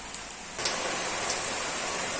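Heavy rain falls outside during cooking, a steady hissing wash of rain heard from indoors, even and moderately loud with a few faint drop taps.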